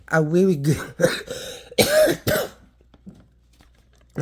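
A person speaks briefly, then gives a couple of harsh throat-clearing coughs close to the microphone before falling quiet.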